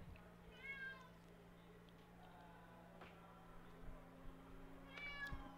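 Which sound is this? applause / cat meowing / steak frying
cat meowing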